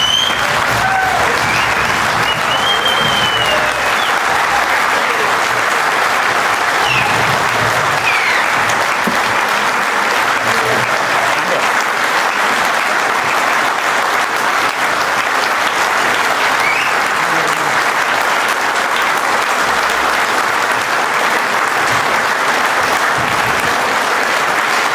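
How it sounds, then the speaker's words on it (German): A large audience gives sustained, dense applause after a political speech, a loud, unbroken roar of clapping that holds steady for about twenty-five seconds. "Genieße es, der Applaus ist verdient."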